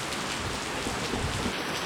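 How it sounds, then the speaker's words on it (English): Heavy rain pours down at a campground in Jacksonport State Park, Arkansas, in a dense, continuous roar, close and loud, with no other sounds breaking through. "we got another downpour coming"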